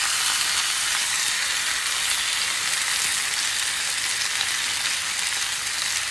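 Porterhouse steak searing in a cast iron skillet over high heat, giving a steady, dense, close-up sizzle of hissing fat with no pauses or talking.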